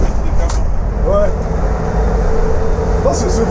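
An Iveco Crossway bus's engine drones steadily while climbing a hill on a drive around Nice, with a constant low rumble of road and engine noise and brief high hisses.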